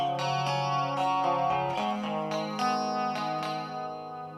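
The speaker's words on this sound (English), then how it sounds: "I've just switched over to sine wave there" Sine wave tone fed through a prototype PT2399 echo IC circuit, a series of pure sustained notes changing pitch every half second or so, each trailed by echo repeats that decay at the end.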